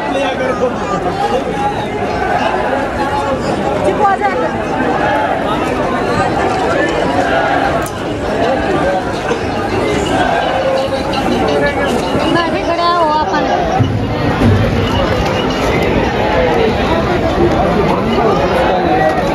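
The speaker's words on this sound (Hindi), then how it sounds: "भाई काफ़ी भीड़ है" Dense crowd chatter and hubbub fill a busy Hindu temple, many overlapping voices loud and continuous throughout, with footsteps and movement mixed into the steady babble.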